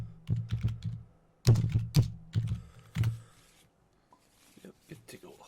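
Fingers tapping on a computer keyboard nearby, a quick run of crisp clicks in short bursts with pauses, then a few softer scattered presses as the typing slows.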